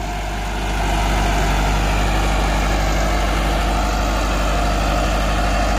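Massey Ferguson 385 tractor hauling a five-tine chisel plough deep through farm soil, its diesel engine a loud, steady low rumble that holds close and continuous throughout with no voices.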